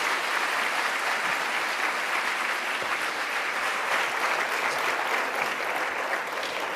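A symposium audience gives sustained, dense applause, an even wash of many hands clapping that stays loud and steady throughout with no speech over it.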